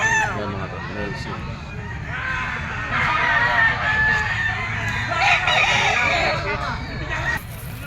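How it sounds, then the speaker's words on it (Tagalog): Chickens cluck and roosters crow repeatedly in a busy, noisy flock, with overlapping calls and some background voices throughout. "Eto mga tol, yung mga manok na to."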